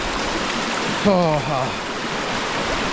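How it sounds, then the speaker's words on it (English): A strong, fast river rushes in a steady broadband roar across the whole stretch, with a brief spoken exclamation partway through. "The river is extremely strong and fast."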